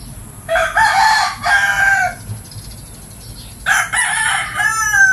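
A rooster crows twice among free-ranging chickens and hens, a loud, nearby call that stretches and rises, with a pause between the two crows.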